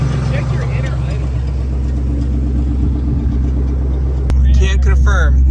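A Ford SVT Cobra with a broken timing chain idles roughly with a misfire, a steady close rumble running under continuous talking.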